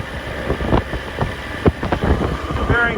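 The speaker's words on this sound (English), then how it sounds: "The bearings sound terrible." A Manitowoc ice machine's remote condenser fan motor with worn bearings, drawing over current, gives a close, steady rough whir broken by irregular knocking and rattling bursts, with wind-like rushing noise throughout.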